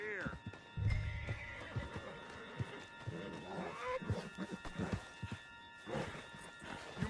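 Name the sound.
horse neighing and hooves in Red Dead Redemption 2 video game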